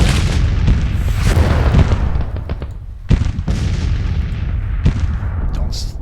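Civil War musket volleys and artillery booms in a Battle of Shiloh video game, with dense overlapping gunfire and heavy blasts rolling continuously, a sharp loud shot near the middle standing out.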